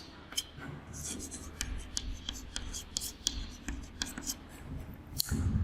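Chalk or marker strokes on a classroom board during a Class 8 maths lesson on linear equations, a steady run of short scratchy marks with brief pauses, fairly close and moderately quiet, with no talking.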